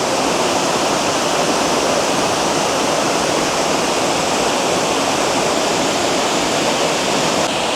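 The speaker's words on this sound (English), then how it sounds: "Sitting here at the waterfall of all the sights around here." A waterfall near Puerto Vallarta, Mexico roars steadily and close by: a dense, unbroken rush of falling water with no voices.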